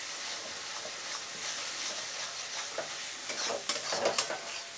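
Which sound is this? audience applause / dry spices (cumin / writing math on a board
dry spices (cumin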